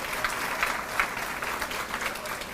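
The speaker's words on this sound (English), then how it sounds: "give these junior high girls a round of applause" Audience at an all-sports school banquet applauding junior high girls from the track team, a steady, moderately distant round of clapping from a medium-sized crowd.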